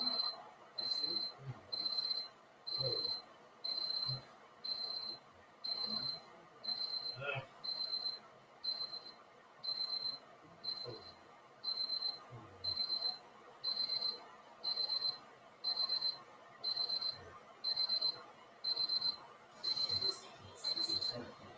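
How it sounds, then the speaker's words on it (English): An electronic alarm beeps in regular bursts of rapid high-pitched tones, repeating about once a second, steady and moderately loud in a room, with a person talking intermittently underneath. "That beeping that you're hearing in the background is"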